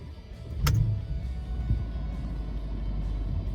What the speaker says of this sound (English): let's turn the car on and make sure there's no airbag light